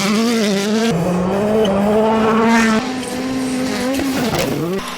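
A Hyundai rally car races flat out on a mixed asphalt-and-gravel stage at Rallye de España in the WRC. The engine wails loudly and continuously with rising and falling pitch through gear changes, and tyres squeal as it brakes near the end.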